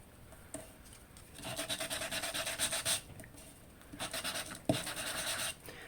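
Gritty rasping strokes rub back and forth along the edges of a glass mat in several bursts, close and fairly quiet, with short pauses between passes.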